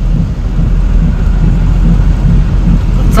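A heavy downpour makes a loud, constant roar with a deep rumbling low end and no voices.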